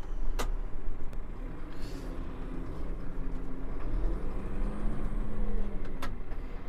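Valtra N124 tractor from 2020, a 135 hp four-cylinder with about 3,400 hours, idling steadily with a low continuous engine hum and a few faint clicks on top.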